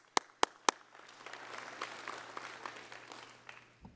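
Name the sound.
applause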